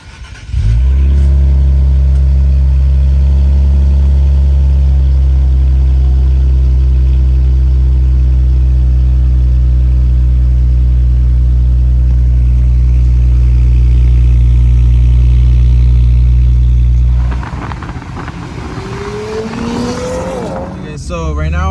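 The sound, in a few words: Infiniti Q cold start with catback exhaust and intakes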